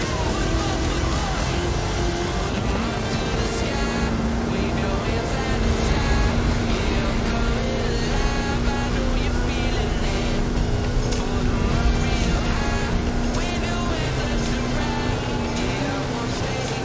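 A Hot Wheels vehicle with a 540 cubic inch Chevrolet engine and 66 inch Terra tyres roars continuously in Forza Horizon 5, a loud, steady engine drone with a sustained whine throughout.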